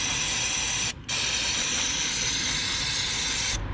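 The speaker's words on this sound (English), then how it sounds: "I'm just going to be using some brake and parts cleaner" Aerosol brake and parts cleaner sprays hard onto throttle body connectors in a loud, steady hiss, broken by one brief pause before the spray resumes, then cutting off near the end.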